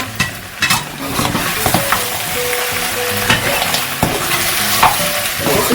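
Mutton paya curry, Andhra style, is stirred in a pan with a spoon scraping and clacking over a loud, close sizzle, with irregular knocks against the pan throughout.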